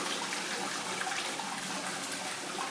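An automatic toilet in a luxury hotel suite flushes, a steady close rush of water that fills the whole moment without any voices.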